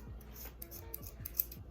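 Scissors snip through braided hair in a few quiet, closely spaced cuts, faint and close by, with no talking.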